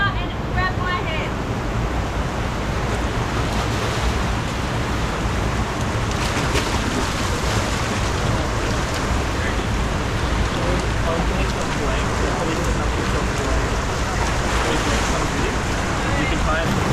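River water rushes steadily through a bushland canyon at Cradle Mountain, a dense, continuous roar close to the microphone that runs unbroken the whole time, with no voices.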